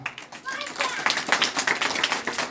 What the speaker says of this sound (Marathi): जोरदार टाळ्या आपल्या आई वडिलांसाठी वाजवा.